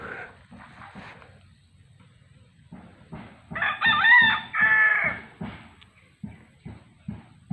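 A rooster at a backyard chicken coop crows loudly once in the middle, with hens clucking in short bursts before and after, close by and with no talking.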